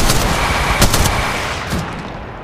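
Automatic weapon fire in Apex Legends Mobile, a quick string of loud close shots followed by a couple more bursts that fade into lingering battle noise.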